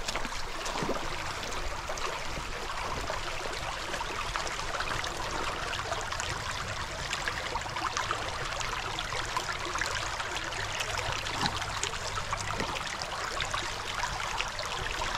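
Water trickles and babbles steadily in a small spring-fed creek where a Clydesdale horse drinks, a soft continuous flow with no voices.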